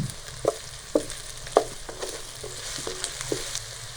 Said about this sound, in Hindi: तो 5 मिनट के लिए हम गाजरों को फ्राई करेंगे ताकि गाजरें हमारी गल जाएँ